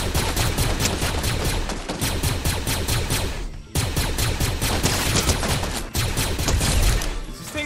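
Rapid, dense gunfire from a video game played on a PS5 rattles almost without pause, loud and continuous through the whole stretch, with a couple of brief gaps.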